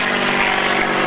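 A steady, droning liquid-cooled piston aircraft engine roars continuously at an airshow, loud and close, with a smooth sustained hum and no pauses.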